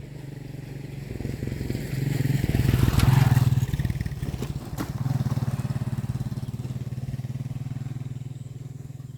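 A motorcycle engine putters and revs nearby, swelling louder as it passes close, then settling into a steady idle drone.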